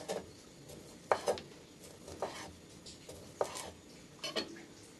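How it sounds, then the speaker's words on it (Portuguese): A knife cuts calabrese sausage into rounds on a board, giving a handful of soft, separate chopping taps spaced about a second apart against a quiet kitchen background. "A linguiça eu vou estar cortando ela assim"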